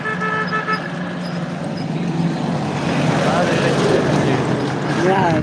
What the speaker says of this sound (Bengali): এখন পুলিশের গাড়ি আসতেছে